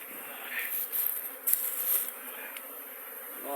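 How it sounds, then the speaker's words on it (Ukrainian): American Italian honeybees buzz as they fly out of the hive on an orientation flight in early March, carrying pollen, a close busy droning hum with individual bees passing near and away, no voices. "це літає, облітується американська італіянка. Несуть пилок."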